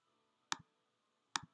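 Two crisp computer mouse clicks, spaced about a second apart, while drawing a mask in Final Cut Pro X; close, sharp and isolated in quiet.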